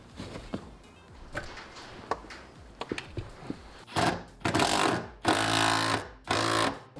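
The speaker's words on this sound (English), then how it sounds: "Love using the riv nut gun since I got it." A rivet nut gun sets riv nuts during a Toyota Mark II JZX110 manual gearbox swap. Scattered light clicks and taps lead into four loud, sustained whirring bursts, each lasting about half a second, close by.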